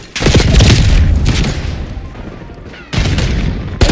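Gunfire in a Black Ops 6 match, heavy booming shots and bursts packed densely through the clip, a brief lull, then another loud volley near the end.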